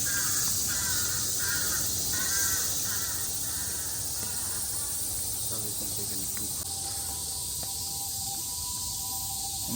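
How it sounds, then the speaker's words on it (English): Crows cawing behind a shrine pond in Tokyo, repeated harsh caws at a moderate distance over a steady, dense drone of insects and outdoor ambience, with no talking. "And crows going in the background."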